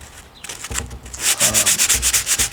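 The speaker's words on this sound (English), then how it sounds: "Now our wood filler is ready to sand." Wood filler on kitchen cabinets is hand-sanded with fine 220-grit sandpaper, making close, rhythmic back-and-forth scratching strokes that quicken and grow louder toward the end.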